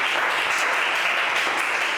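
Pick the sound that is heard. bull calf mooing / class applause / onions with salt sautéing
class applause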